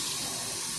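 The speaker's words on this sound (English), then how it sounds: "Then we're going to get some water, not too hot," Warm water runs from a kitchen tap for mixing bread dough, a steady, close, hissing stream with no break.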